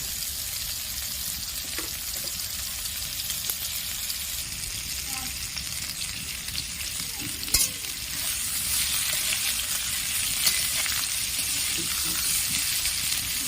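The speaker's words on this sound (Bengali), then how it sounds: "অনেকটা লাল লাল হয়ে গেছে, আর আরেকটু লাল করে ভেজে নেব।" Sliced pointed gourd frying in oil until reddish, giving a continuous bright sizzle. Occasional scrapes and small knocks rise from the pan, and the hiss grows slightly louder toward the end.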